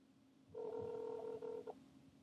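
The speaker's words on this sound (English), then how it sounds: "And we should be able to hear it ring." Android phone dialing and ringing through a speakerphone: a low hum, then one steady electronic tone of about a second, faint and alone.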